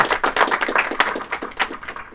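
A small crowd clapping, a brief patter of scattered handclaps at close range, fairly light and uneven, fading slightly toward the end.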